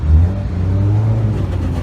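A lowered manual-shift Honda Civic with a big rear spoiler at a car show, its engine giving a loud, steady, near rumble with a low drone throughout the short burst.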